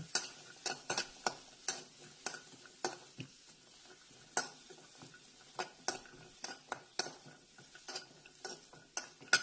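A spoon scrapes and stirs through dry ingredients in a hot pan with the gas off, making quick, irregular clicking strokes over a faint crackle.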